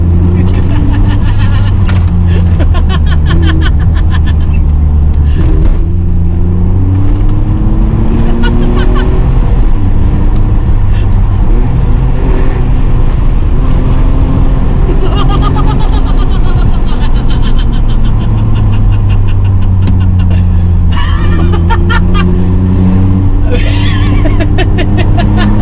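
A BMW 525i E34 is driven hard in a race against an Audi S3, its engine loud and droning as it revs up through the gears, with pitch climbing and dropping at each shift and someone talking over it.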